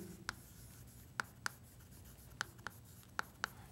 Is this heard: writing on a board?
yes